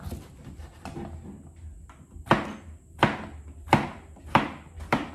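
Knife chopping upo (bottle gourd) on a cutting board for a tinapa dish, a series of firm, evenly spaced thuds that grow louder and sharper partway through, close by with no talk.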